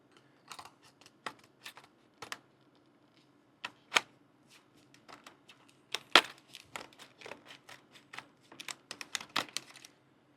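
A plastic blister pack holding a Master Lock 1471DAT trailer coupler latch lock is cut and pulled open: sparse sharp crinkles and snips, a few louder cracks, close and quiet with silence between.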